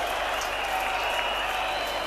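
Cricket crowd at a 1990 West Indies versus England Test match applauding a Viv Richards boundary shot, a steady broad roar of clapping heard from a distance, continuous throughout.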